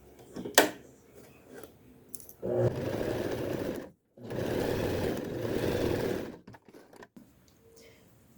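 A sewing machine stitches a plush pencil case in two bursts of rapid mechanical whirring, each a couple of seconds long, separated by a short pause, with quiet handling noises and clicks around them.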